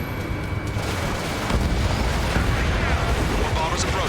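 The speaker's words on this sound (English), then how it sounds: "Hostile bomber destroyed." A hostile bomber blowing up after a missile strike in Ace Combat 7, a loud rolling boom that swells and rumbles on under continuous jet engine roar, with no voices.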